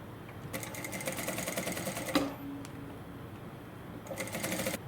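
A sewing machine stitches a dress lining in two fast, steady bursts of rapid needle clatter, close and clear, with a short pause between runs and no talking.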